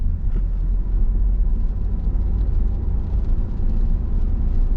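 A car engine hums in a low, steady rumble as it accelerates gently during a driving lesson, heard from inside the cabin, with no sharp revving and no talk.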